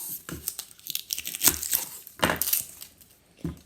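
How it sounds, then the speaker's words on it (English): Dry outer skin being peeled off an onion by hand in a home kitchen: a string of crisp, papery tearing and crinkling rips, close and fairly loud, in irregular bursts with short pauses between. "Peel off its outside, put down the centre"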